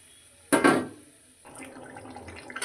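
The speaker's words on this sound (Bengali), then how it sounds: "এবার এর মধ্যে আমি বাটি ধোয়ার জলটা" Bowl-rinsing water is poured into chicken curry simmering in a pan, giving a sudden loud splash and gush that fades, followed by a softer ongoing bubbling and trickle.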